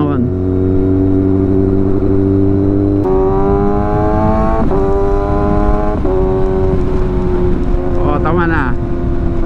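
A Kawasaki ZX-6R motorcycle accelerates along Quirino Avenue, its engine climbing through several gear shifts with rising whine, loud and close amid wind noise, while a rider talks over it.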